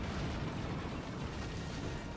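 Dense, continuous rumbling explosions from the artillery strategy game Forts fill the moment, a loud sustained roar of blasts and booms with no talk over it.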